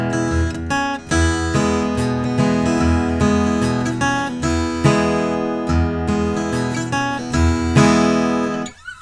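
Acoustic guitar plays an E run in bluegrass rhythm, crisp picked bass notes and strummed chords in a driving steady pulse, close and loud, with no talking over it.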